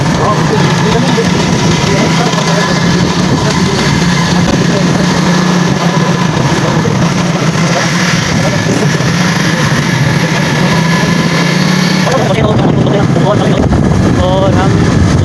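Village tubewell engine pumping water outdoors, a loud continuous rumbling drone with wind buffeting the microphone, and voices talking over it.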